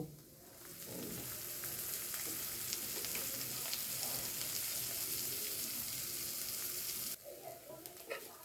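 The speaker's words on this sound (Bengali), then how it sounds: "শাকটা বেশ ভাজা হয়ে গেছে" Fenugreek greens frying in mustard oil in a pan, heard as a close, even sizzle with soft stirring that runs steadily and then cuts off abruptly near the end, leaving a few quiet knocks.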